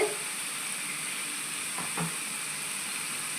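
Steady, soft sizzling of tangra fish frying in a pan, with a brief clatter near the middle; no one speaks.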